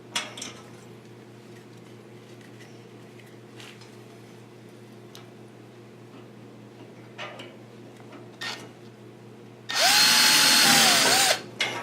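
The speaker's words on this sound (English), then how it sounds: "I've got to contort myself and do that from the other side, from the inside, and drill out." A power drill bores a hole for nutplates in a Piper Supercub floor and side panel, one loud, close burst of whirring near the end after quiet stretches with faint ticks and shuffling.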